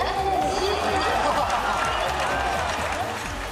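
A crowd cheers and applauds at a rain-soaked baseball game, a dense, steady roar of voices and clapping heard close, with a speaking voice layered over it.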